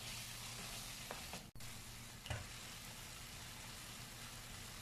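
About 750 grams of chicken pieces sizzle in a pan while they are mixed, making a steady hiss with one sharp clatter near the middle and a brief scrape.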